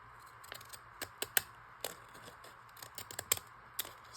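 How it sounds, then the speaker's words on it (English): Postage stamp scissors snipping paper from a junk mail envelope for a junk journal, a series of short, crisp cuts at an uneven pace, close and fairly quiet. "Maybe I'll use the stamps I'll use my postage stamp scissors on it."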